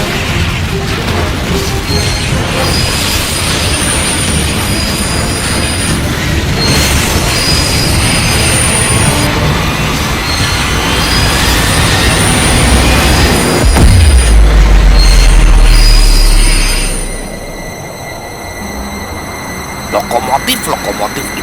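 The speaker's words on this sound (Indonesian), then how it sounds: "Lokomotif itu sudah jatuh." In a drama series, a train locomotive plunges from a collapsed bridge: loud continuous rumbling and squealing wheels build into a heavy, deep crash, then the noise drops away to quieter scattered clatter.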